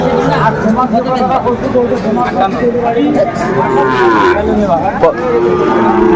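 Sahiwal bulls at a busy cattle market in Faridpur let out loud, close, drawn-out moos over constant crowd chatter and people talking nearby.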